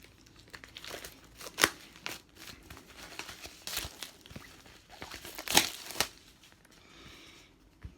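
A folded paper board game map for Battle for Rokugan is opened, giving close crinkles and rustles with two louder crackling bursts and occasional jingles from keys.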